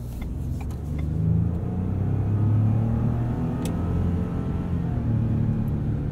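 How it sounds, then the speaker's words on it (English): A 2021 Ford F-150 PowerBoost hybrid pickup truck drives on the road, heard from inside the cabin as a steady low engine and road rumble that swells slightly midway, with no talking. "And this truck really does drive so well."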